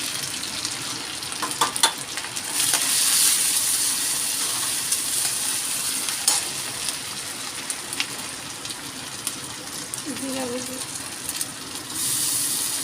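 Raw onion frying with ginger garlic paste in a pan, a steady close sizzle with occasional clinks and stirring scrapes running throughout, while a voice speaks intermittently over it.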